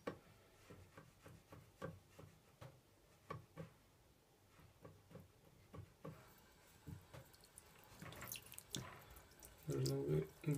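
Water is poured and splashes over boots coated with a protective spray, a soft uneven trickle and patter that grows louder and more continuous toward the end.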